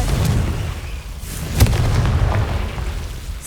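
Confringo fire spell exploding in the Hogwarts Legacy video game, a loud, dense blast with a sharp crack near the middle amid a continuous roaring rumble.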